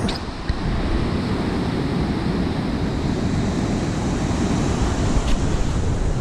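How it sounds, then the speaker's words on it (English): Big ocean waves crash and roll along the Atlantic seacoast of New Hampshire, a loud, continuous roar of surf mixed with wind buffeting the microphone, no voices. "For New England, that's those are some big old waves."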